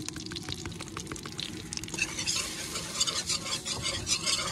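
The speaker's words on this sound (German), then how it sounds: "und dann muss man aber direkt rühren" Flour stirred into melted butter in a pan for a roux, close rhythmic scraping and stirring over a soft sizzle that brightens and thickens midway, no talking.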